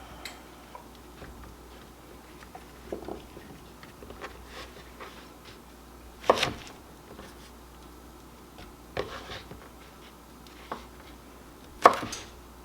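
A kitchen knife slices okra into pieces on a cutting board, with soft steady ticking cuts and a few louder chops spaced through a quiet room, nobody talking.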